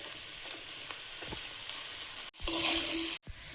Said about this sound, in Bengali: সয়াবিনটা দিয়ে একটু ভেজে নেব।